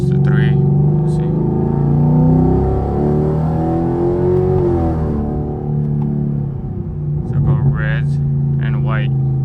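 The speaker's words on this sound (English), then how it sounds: "see if I can let it rev a little higher" A Chevrolet Camaro fitted with a carbon fiber steering wheel, its engine revving up and settling with a loud, steady harmonic drone through the cabin, pitch climbing then easing, with brief voices near the end.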